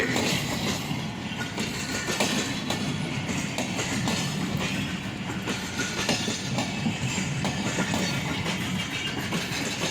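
Musa Pak Express, a full-length passenger train, runs steadily past with a continuous rumble and rhythmic clickety-clack of wheels on rail joints, loud and close throughout with no talk.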